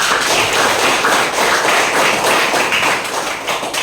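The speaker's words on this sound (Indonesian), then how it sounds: "kasih tepuk tangan dulu, ya" Classroom clapping from a group of students during a lesson, a dense, loud burst of many hands that continues evenly and tapers slightly near the end.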